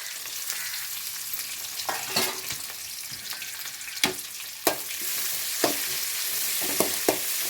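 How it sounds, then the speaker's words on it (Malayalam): Mustard seeds, dried red chillies, shallots and curry leaves tempering in hot oil, a continuous sizzle with sharp popping crackles and occasional stirring clinks, close and alone. "വറ്റൽമുളകും ചെറിയ ഉള്ളിയും കറിവേപ്പില ഇട്ട് നമ്മൾ കടു വറുക്കണം"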